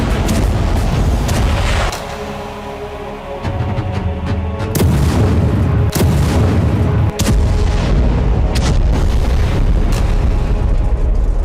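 Explosions strike during Hezbollah attacks on the Israeli army: loud, heavy booms over a continuous roaring rumble, with several sharp blasts standing out near the microphone.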